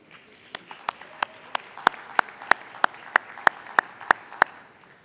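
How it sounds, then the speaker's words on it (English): A conference audience at a plenary session claps in steady unison, about three sharp beats per second over a low crowd murmur, for several seconds with no speech. "Give her a big applause on the way up here."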